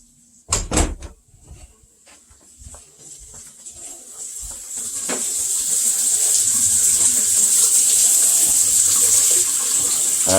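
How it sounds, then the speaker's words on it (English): Hot water runs steadily from a sink tap in a home with a Rinnai tankless water heater, a few sharp knocks at the start before the stream builds into a loud, continuous rush. "so hot water is running"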